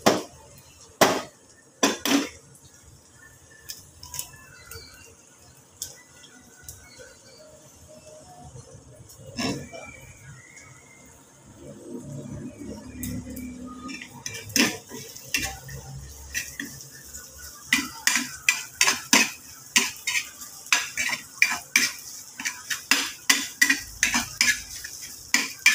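Sisig cooks in a pan, with an egg added and a metal utensil clanking and scraping rhythmically against the pan. The stirring starts sparse and quiet, then turns into rapid, repeated strikes.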